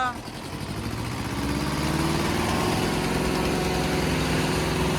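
Eicher and Massey tractors in a tug-of-war, engines revving hard at full throttle; a loud, close droning roar climbs in pitch and then holds steady, with voices faintly beneath it.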